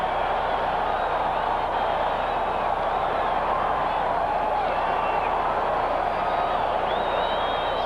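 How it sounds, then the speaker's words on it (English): Large football crowd roaring at Orchard Park during a 1986 Miami Dolphins at Buffalo Bills game after a blocked field goal, a dense sustained cheer filling the stadium with whistles rising above it. "listen to this crowd now at Orchard Park come alive after the blocked field goal attempt"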